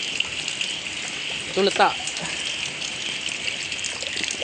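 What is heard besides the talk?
rainwater being filled into fish containers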